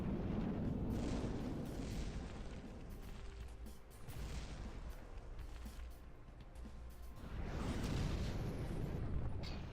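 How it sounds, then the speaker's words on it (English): Missiles fire and strike a ship in the naval combat game From the Depths, a dense, continuous barrage of booming blasts and rumbling explosions that swells loudly at the start, eases in the middle, then surges again, with no talking. "Are you shooting missiles at your own ship?"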